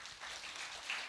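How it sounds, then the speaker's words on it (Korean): A congregation at a New Year's Eve church service claps together, a soft, distant wash of applause that stays even throughout with a slight swell near the end. "우리 하나님께 감사의 박수 한번 드리고요"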